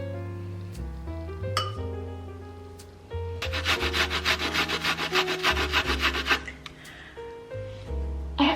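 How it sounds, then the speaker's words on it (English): Shallot and garlic rubbed against a hand grater over a dressing, a run of rapid rhythmic rasping strokes after a few clinks, close and fairly quiet, with a brief voice at the start. "So I'm just going to grate these into the dressing."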